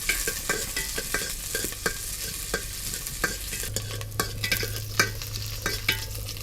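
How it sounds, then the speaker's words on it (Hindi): Onion and chillies fry in a pan with a constant close sizzle, punctuated by repeated clicks and scrapes of stirring, no talking. "फिर इसमें साथ में मिर्ची डालेंगे।"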